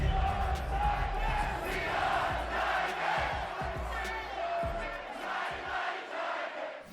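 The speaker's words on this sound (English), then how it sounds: "they fire up the crowd with the striking of the anvil as it's time for football at Lucas Oil Stadium" A big stadium crowd roars and cheers in an EA Sports NFL football game at Lucas Oil Stadium in Indianapolis, a loud continuous swell with sharp thumping hits punctuating the din.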